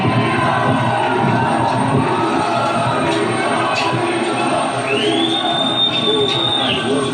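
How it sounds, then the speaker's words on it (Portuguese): Crowd gathered at an airport in Bahia greeting the Brazilian president, a dense mass of voices cheering and shouting together, steady and fairly loud, with a high whistle-like tone rising briefly near the end. "vocês veem o povo chamando ele de mito"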